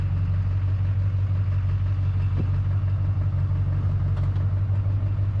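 A Duramax diesel truck engine runs as the truck drives onto a trailer, a steady, loud low rumble with an even drone and no change in pace across the clip.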